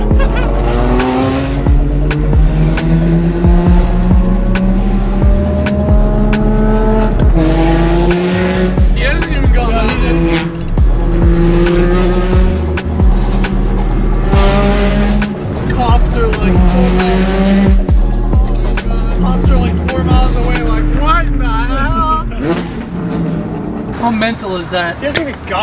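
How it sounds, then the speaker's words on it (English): Very loud revving and roaring from a modified car in the desert, engine pitch climbing and falling repeatedly with tire squeal and skidding, close and overwhelming, with voices talking underneath at times. "This is one of my favorite and non-favorite cars to be next to. The noises are crazy."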